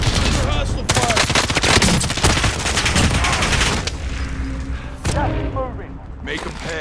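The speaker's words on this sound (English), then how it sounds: "Hostile fire." Rapid gunfire fills a Call of Duty: Modern Warfare fight, loud, close bursts of automatic shots that thin out toward the end, with a voice speaking briefly over the action.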